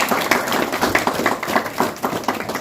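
Audience applause after a call for a round of clapping at a Bharat Vikas Parishad event where an RO cold drinking water facility is dedicated, a steady crowd of claps with a rhythmic wash and no talk.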